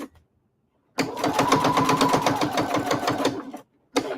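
A sewing machine runs in one steady burst of rapid, even stitching through boning on a denim corset, starting and stopping cleanly with a quiet pause before it, then a brief restart at the end.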